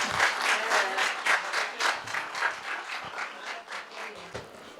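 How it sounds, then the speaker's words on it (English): A room full of people applauds at an intern farewell ceremony, dense steady clapping with rhythmic surges running the whole stretch, fairly close and lively. "Guys, round of applause."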